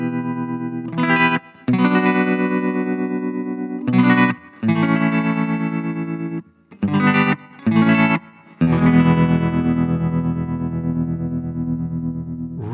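Electric guitar played through a Vox DA5 practice amp using tremolo with reverb, with chords and brief stabs pulsing in volume, short breaks between phrases and a long sustained final chord, no voices.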